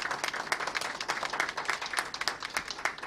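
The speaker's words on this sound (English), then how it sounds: "give them a round of applause for what they did during this pandemic" An audience applauding transit workers at a legislative event, dense scattered clapping from a modest crowd, fairly faint and steady for a few seconds.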